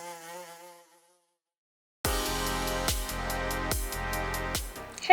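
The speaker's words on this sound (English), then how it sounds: "I'm going to kill a mosquito," A mosquito whines close by in a thin, steady buzz that drifts up and down in pitch, then cuts to silence before loud, unrelated sound takes over.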